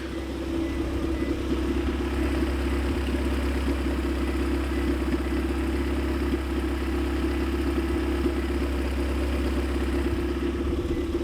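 An old station wagon's car engine idles steadily with no exhaust system fitted, giving a continuous low rumble close by for the whole stretch, with no talking over it.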